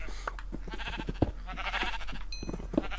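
Sheep bleating in Minecraft on a survival sheep farm, a few short nasal bleats scattered among clicks and game noises, moderately loud over a busy background.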